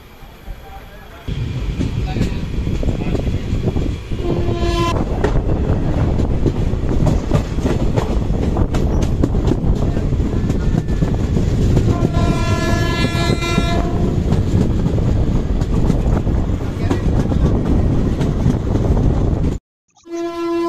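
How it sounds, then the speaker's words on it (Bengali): A Sealdah–Lalgola passenger train rolls slowly past on the tracks with a loud, continuous rumble and rattle, two long horn blasts sounding partway through and a voice talking over part of it. "ট্রেন খুব ধীর গতিতে আস্তে আস্তে সাপের মতো এগিয়ে যাচ্ছে"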